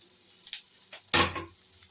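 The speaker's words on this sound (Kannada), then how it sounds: "ಚೆನ್ನಾಗಿ ಮಿಕ್ಸ್ ಮಾಡಿಬಿಟ್ಟು ಫ್ರೈ ಮಾಡಿ." Grated coconut frying in a pan for a spicy fish curry gives a short burst of sizzle with a few light stirring scrapes, close and alone.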